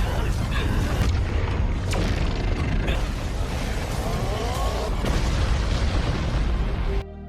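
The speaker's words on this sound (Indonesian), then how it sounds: "Dan puncaknya sebuah ledakan besar pun terjadi." A thick, booming roar of an explosion rumbles continuously with several sharp bursts and cracks layered on top, loud and dense throughout.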